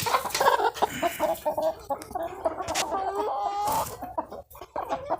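Chickens clucking on a poultry farm, a busy, continuous chorus of several hens with overlapping calls, close and fairly loud throughout with no talk.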